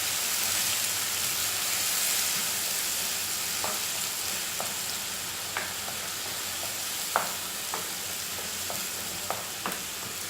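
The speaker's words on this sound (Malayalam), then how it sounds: "ഉള്ളിയുടെ പേസ്റ്റ് ചേർത്തിട്ട് ഉള്ളിയും ആ പച്ചമണമൊക്കെ പോയി ഒന്ന് മൂത്ത് വരണം." Onion paste sizzling and frying steadily in a hot pan over high flame, a continuous hiss with occasional small pops and crackles, close and alone with no talking.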